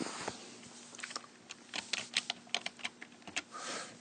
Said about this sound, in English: what we're going to do is we're going to type in